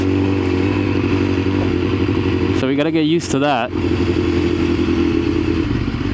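A 1000cc hyperbike motorcycle on the road, its engine a steady continuous drone throughout while a rider talks over it, with a brief rattling scrape partway through.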